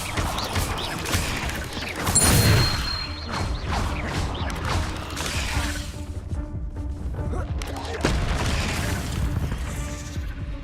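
Incendio fire spell cast in Hogwarts Legacy, a burst of whooshing, crackling fire with crashing impacts amid dense game effects, loudest early on and followed by further rumbling hits.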